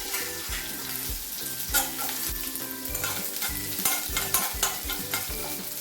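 Chopped shallots, two dried red chillies and curry leaves fry in hot oil for a vegetable curry, giving a dense, close sizzle with repeated stirring scrapes throughout and no talking.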